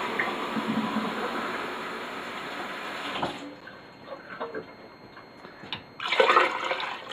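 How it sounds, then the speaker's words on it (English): Cold water runs steadily into a soup pot for split pea soup, a continuous close splashing pour for about three seconds, then a quieter gap with small drips and clinks before another brief burst of running water. "So I'm going to add 10 cups of cold water"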